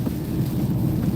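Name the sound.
thunder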